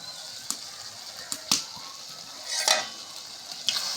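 Meat braising with spices in a pan, cooked with mustard plants, gives a faint, low sizzle broken by a few sharp spoon scrapes and clinks of stirring, with no talk.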